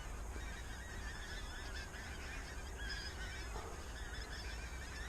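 A skein of pink-footed geese honks from a distance on a frosty morning, faint overlapping calls over a steady windy hiss.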